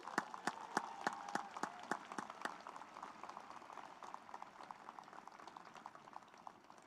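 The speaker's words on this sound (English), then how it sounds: "Let's give a round of applause to our parents and guardians who have supported you for so many years." Graduation ceremony crowd at Squalicum High School applauding parents and guardians: a dense, steady wash of applause with a string of sharp, evenly spaced claps near the front early on, easing slightly toward the end.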